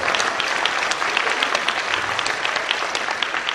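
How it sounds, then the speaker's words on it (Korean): Sustained applause from an audience at a Korean Christian leaders' forum worship service, dense steady clapping filling the whole stretch with no break, moderately loud and even. "박수 한번 쳐주시고요"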